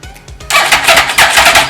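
Yamaha R1 sport motorcycle, rebuilt after a wreck and running poorly, cranking with a loud steady whirring starter drone that sets in abruptly after a few faint clicks, close and continuous.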